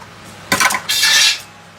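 A French fry cutter is worked on a potato, giving two short bursts of clattering, crunching noise close by, the second longer than the first, with quiet around them.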